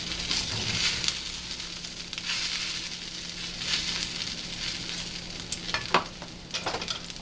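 Peanuts are stirred into sago upma in a pan, with soft scraping and shuffling under a faint sizzle and a few sharper clicks of the spoon near the end. No one speaks.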